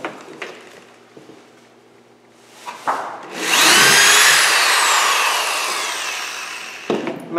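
A power drill bores into wood with a rising, steady whine lasting several seconds, preceded by a few faint knocks and handling sounds, then a brief clatter as it stops.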